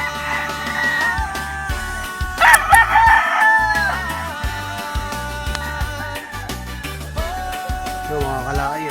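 Several stag roosters crow on a farm, their long cock-a-doodle-doo calls overlapping near and far against a steady rhythmic music bed, with a loud close crow standing out in the middle.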